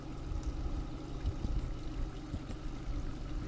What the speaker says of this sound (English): You hear the water running through the rocks.